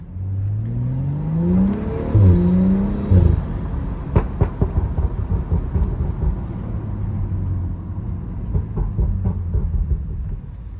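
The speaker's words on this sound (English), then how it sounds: "They're winter tires, you know, so I'm spinning a lot." A Stage 2+ tuned BMW 335i accelerates hard on winter tires, the engine note climbing steeply through two gear pulls, then a burst of pops and crackles and a lower rumbling cruise heard from inside the car.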